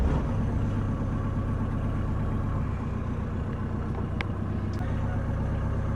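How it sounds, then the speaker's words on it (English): The diesel engine of a Hallberg-Rassy 36 sailboat, started after its glow plug, chugs in a loud, close, steady rumble that runs unbroken, with a couple of faint high clicks near the end. "just press start to start the engine"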